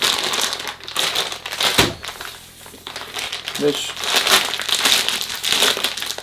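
A plastic bag holding mushroom grain spawn is crumpled and kneaded by hand to break up and mix the grains, giving steady crinkling and crunching that continues close up under a speaking voice.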